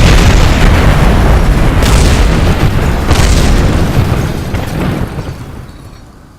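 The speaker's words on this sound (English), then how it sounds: "first stage will be to engage these rockets and then to release us" Rocket stage engines ignite in Kerbal Space Program, a loud continuous roaring rumble with booming bursts that holds steady for several seconds before thinning and fading toward the end.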